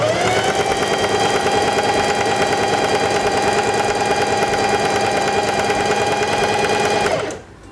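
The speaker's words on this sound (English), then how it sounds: "and begin sewing." A Singer Heavy Duty 4411 sewing machine stitches fabric in a fast, steady mechanical whir with a rapid needle rhythm, running close and loud for about seven seconds before stopping abruptly.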